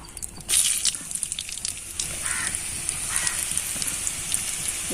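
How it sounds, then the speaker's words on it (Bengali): Raw potato snacks dropped one by one into hot oil, crackling and bubbling with a steady fizzing sizzle and scattered pops throughout, fairly close and without any talk. "এবার আমি এগুলোকে একে একে তেলে ভেজে নেব।"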